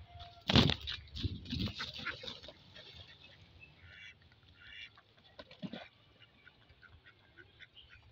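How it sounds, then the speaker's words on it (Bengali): Domestic ducks on a wetland quack loudly in a close burst, followed by scattered softer quacks and calls from the flock against a quiet outdoor background. "অনেক সুন্দর পাতি হাঁসগুলো, দেখেন সবাই"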